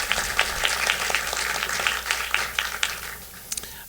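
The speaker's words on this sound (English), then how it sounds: "Yeah, I'd clap for that." Audience applause at a college Charter Day ceremony: steady mid-distance clapping from a seated crowd, with sharper individual claps standing out across the roughly four seconds and tapering slightly near the end.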